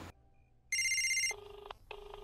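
A telephone rings in a quiet room: a bright electronic ringtone bursts in, followed by two repeated lower tonal ring pulses, fairly close and with no talking.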